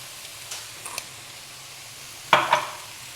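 Soft sizzling of tomato paste with sugar frying in a pan, with a few quiet stirring scrapes, then two sharper clatters near the end; no voices.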